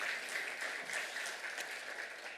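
Parents in a church gathering clap together in a steady, dense wash of applause that stays loud and even throughout, with no voices rising above it.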